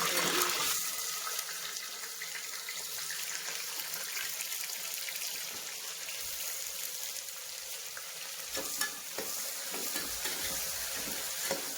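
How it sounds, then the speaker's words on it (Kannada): Whole masala spices fry in hot oil in a pan for a quick biryani, a continuous close sizzle with faint stirring scrapes and no talk. "5 ನಿಮಿಷ ಫ್ರೈ ಮಾಡ್ಕೊಳ್ಳಿ. ಚೆನ್ನಾಗಿ ಫ್ರೈ ಆಗಲಿ."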